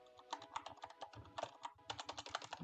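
Code typed on a computer keyboard while building an Android app in Kotlin, with fast, steady clicking keystrokes in close, continuous bursts and brief pauses between.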